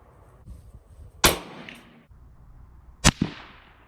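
A 17 HMR rifle fires 17 grain CCI rounds at an orange target 100 yards away, two sharp cracks about two seconds apart, each followed by a faint distant report from downrange.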